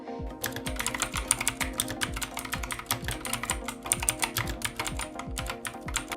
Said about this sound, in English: This keyboard uses blue mechanical switches, which may be loud for some